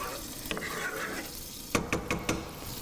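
A spoon scrapes and clinks against a pan of meatball sauce being stirred with a little olive oil, with a soft sizzle underneath and several sharp utensil taps near the end.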